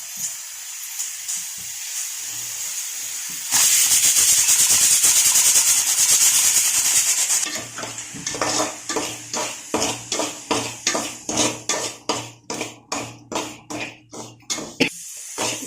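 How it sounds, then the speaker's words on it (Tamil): Semolina roasting in ghee in a pan rasps and hisses steadily, then breaks into a fast, regular scraping rhythm as it is stirred, close and loud with no talk. "இதுலேயே நம்ம வந்து ரவையை கொட்டி வறுத்துடலாம்"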